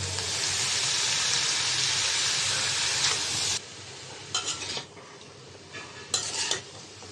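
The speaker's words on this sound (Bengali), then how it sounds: "তো নাড়াচাড়া দিয়ে দিলাম।" Bitter gourd and potato frying in a pan, first a loud steady sizzle, then it drops and a spatula scrapes and stirs in a few short bursts.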